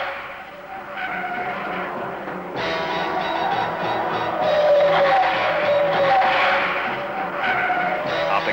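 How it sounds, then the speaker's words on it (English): A Ford Falcon corners hard at about 80 on a durability run, tires skidding and squealing in oversteer as the engine roars. The sound is loud and continuous, rising as the car slides through the bend. "They're doing 80 and need this perfect oversteer control."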